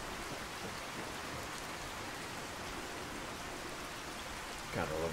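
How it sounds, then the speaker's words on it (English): Rain falls steadily in the video game Fallout 4, a continuous even hiss of drops on surfaces throughout, with a brief low voice-like sound near the end. "the rain in this game"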